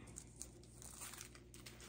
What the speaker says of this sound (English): the cats are playing with the paper